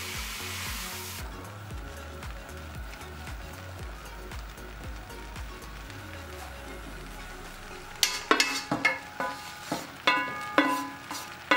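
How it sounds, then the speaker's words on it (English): Diced fresh carrots stir-fried for vegetable fried rice, a steady hiss and sizzle running throughout, with sharper clattering scrapes and stirring knocks breaking in near the end. "why stir-frying your fresh carrots, fresh diced carrot, please don't stir-fry it for too long"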